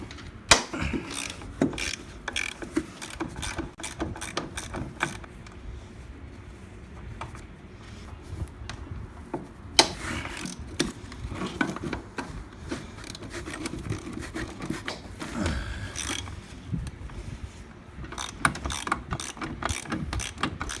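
A hand ratchet clicks in quick, irregular runs while 9/16 bolts are backed out of the chain case on a Polaris Ultra 680 snowmobile, close up, with no talking.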